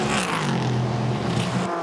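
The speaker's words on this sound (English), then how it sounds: "The Porsche rumbles back down the pit lane" A Porsche race car rumbles low and steady down the pit lane at Road America during an IMSA WeatherTech Championship race, its engine droning continuously at moderate distance before fading out near the end.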